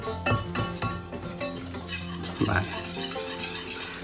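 Flour toasting in a pan for a béchamel roux, stirred continuously with a utensil, giving quick scraping strokes and light clinks over a soft sizzle.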